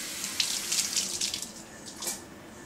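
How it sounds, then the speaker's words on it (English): Kitchen tap running steadily while cilantro is rinsed under it, a close, continuous hiss of water with light splashing changes. "Last but not least, we put the cilantro. Have to wash it first."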